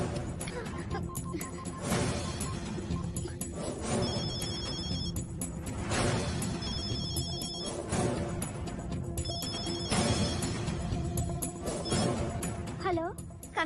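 A telephone rings in repeated bursts of trilling bell tones, roughly every two seconds over a dense, busy background, in a South Indian horror film setting.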